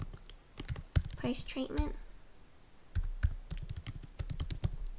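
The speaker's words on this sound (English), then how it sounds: "So what I'll do is type in pre-treatment" Computer keyboard typing while entering graph labels into an Excel spreadsheet: quiet bursts of key clicks before and after a short stretch where someone speaks, the keystrokes soft and close.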